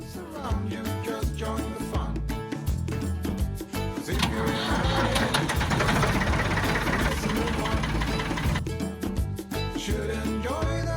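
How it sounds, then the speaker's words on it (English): A big blue tractor engine idles on a homestead pasture, a loud, close, rumbling churn with a steady knocking pulse that swells in the middle and then settles back, carrying on without any talking. "You want to take a ride on my big blue tractor?"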